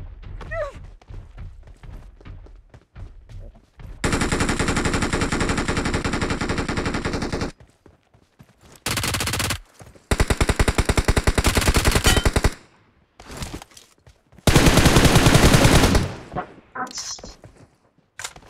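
Automatic M416 rifle fire in the battle-royale game PUBG, with loud sustained bursts coming in several long volleys and shorter gaps between them, mixed with game sounds and voices talking.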